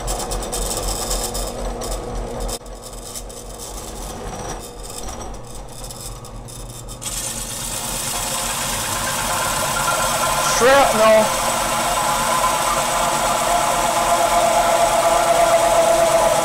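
A power drill fitted with a hole saw bores into a plastic PC case front bezel, giving a steady, loud, close motor drone that grows into a rising grinding whine toward the end, with no clear talk over it.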